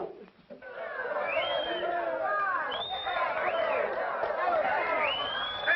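A crowd gathers and murmurs around a plane that has just landed, steady excited chatter and cheering swelling at close range with a few higher voices calling out over it.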